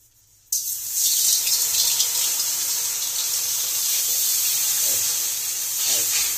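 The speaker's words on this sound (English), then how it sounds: "I'll just throw all this water in there, and you'll see the change in it." Water thrown onto red-hot metal in a dancing-water mine setup bursts into a loud, sustained steam hiss that starts abruptly and roars steadily for several seconds, with faint bubbling underneath.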